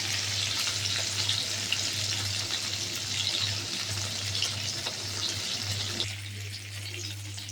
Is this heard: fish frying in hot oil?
yes